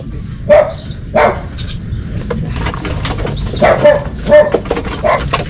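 Racing pigeons cooing and fluttering in a loft, soft repeated calls over a low background murmur.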